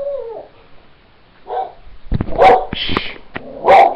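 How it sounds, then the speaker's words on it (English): A pet dog barks loudly several times in close, sharp bursts indoors, after a faint whimper and a person shushing it. "Sorry, that was my dog."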